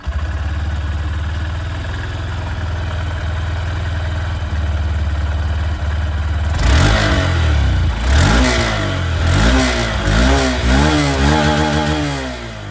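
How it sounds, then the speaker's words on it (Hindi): A 2025 Honda SP125 125cc motorcycle idles with a steady low exhaust note, then its engine is blipped repeatedly in a series of sharp rising revs that fall back to idle, loud and close with no talking. "मैं आप लोगों को यहाँ पर इसकी जो एग्जॉस्ट साउंड है वो भी मैं आप लोगों को यहाँ पर बिल्कुल सुनाना चाहूँगा"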